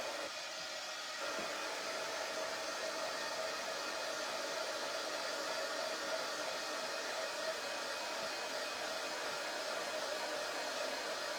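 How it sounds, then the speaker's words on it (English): Hair dryer blowing on a wet paste, switching on after a brief pause and then roaring steadily and close with no talk. "I'm just going to dry this up really quick"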